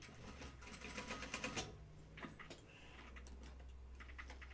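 Sewing machine stitching a shoulder seam on a flight suit, heard as a quick rattling run of needle strokes that stops, then short bursts of clicking as the work is adjusted, close and fairly quiet.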